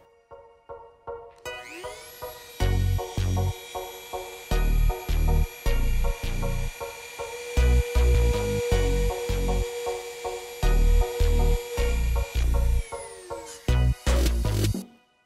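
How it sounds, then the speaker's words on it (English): A high, steady grinding whine runs through most of the clip, broken by repeated sharp knocks and splashes as a small drill bit works into a hard polished rock. "So once your drilling is done"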